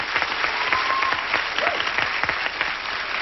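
A game show studio audience claps in brisk, lively applause, many hands clapping steadily at close range for a few seconds, with faint murmurs in the crowd.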